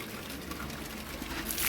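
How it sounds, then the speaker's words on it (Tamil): Water poured over cattle at home during Mattu Pongal, a soft, faint, continuous splashing trickle lasting under two seconds with no voices. "தண்ணி ஊற்றுமா"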